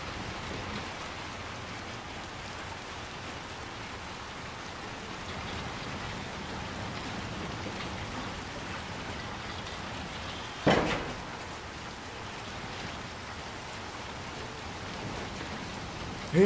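Heavy rain pours steadily and close, a dense continuous hiss across the whole stretch, broken once by a brief sharp knock partway through; no one speaks.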